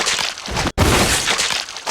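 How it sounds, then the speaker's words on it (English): A loud, harsh burst of crunching, shattering noise from a shotgun headshot in a Resident Evil game, cut off by a split-second gap, then another dense crash of breaking impact sound. "terrible headshot sound too"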